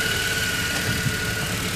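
A 2009 Honda Accord 2.4-liter four-cylinder engine runs steadily at idle, an even low rumble with a faint constant whine, heard close and alone.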